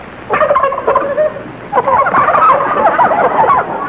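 Several turkeys gobble in two bursts, loud and close, with a short pause between the rattling calls.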